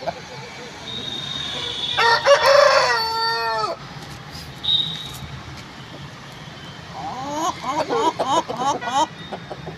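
A fighting rooster of the Nellore game-fowl type crows loudly and close by, two drawn-out crows separated by a few seconds of quieter background noise.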